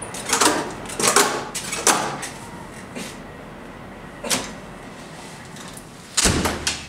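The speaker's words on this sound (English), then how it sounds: "Close the door, at least." Several sharp knocks and bumps from a door being shut, spaced irregularly, close and fairly loud, with quiet gaps between them.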